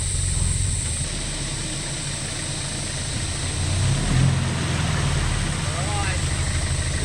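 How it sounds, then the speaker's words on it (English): A 4x4 being driven off-road toward a big hole to get bogged, its engine rumbling steadily with a brief swell around the middle, while the vehicle keeps moving over rough ground. "let's go get the car bogged, Joel"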